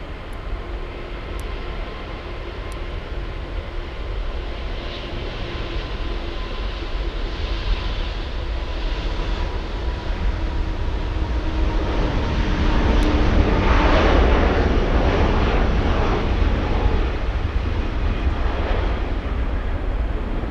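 A huge Airbus A380 departs runway 24 left at Los Angeles International, its jet engines building into a broad, loud roar that swells to a peak and then holds as a steady, distant-sounding rumble.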